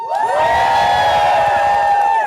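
An audience of Team Elphie fans screams loudly in a sustained, high-pitched wave of cheering and whooping that holds steady for a couple of seconds before cutting off.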